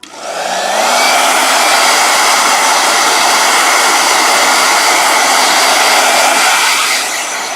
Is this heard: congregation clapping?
no